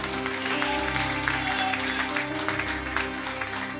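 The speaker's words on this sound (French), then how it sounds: "On acclame le Seigneur Jésus." A church congregation applauds the Lord Jesus with steady, continuous clapping from many people, under a sustained musical drone that fills the space.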